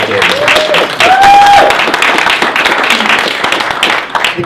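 Applause from a press conference audience for an amateur rugby league club, a lively mix of many overlapping hand claps, loud and near, with a brief spoken word over it.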